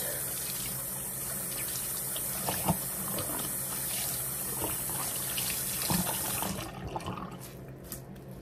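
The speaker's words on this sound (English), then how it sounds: "let me wash my face." Water runs steadily from a tap into a sink during face washing, a constant close splashing flow with occasional small splashes, ending in quieter drips and trickles.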